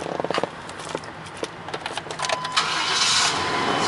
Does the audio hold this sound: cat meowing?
no